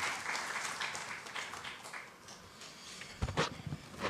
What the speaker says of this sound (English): I request everyone to welcome him with a huge round of applause